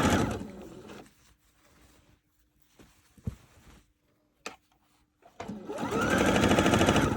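A sewing machine stitches bias tape onto fabric, its close, loud whirring running in a burst at the start, stopping through a quiet stretch with a few small clicks, then starting again and running steadily to the end.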